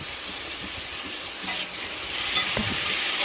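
Tomatoes sizzling in a pan with onion and green chilli for chicken biryani, a dense continuous hiss close up with a few faint stirring knocks, no voices.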